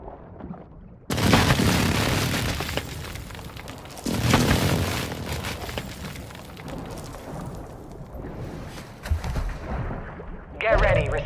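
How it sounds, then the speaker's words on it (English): Precision airstrike explosions in Call of Duty Warzone: heavy booming blasts hit abruptly and rumble away, with a second strong impact a few seconds later and further rolling detonations and gunfire following. "Hostile precision airstrike."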